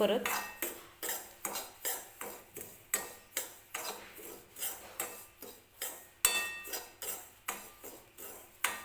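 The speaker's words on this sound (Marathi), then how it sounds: "तूप टाकून रवा जो आहे तो व्यवस्थित भाजून घ्यायचा आहे." Semolina is being roasted in ghee in a pan for sweet sheera. A utensil scrapes and taps against the pan in a steady rhythm about twice a second, close and clear, with no voices.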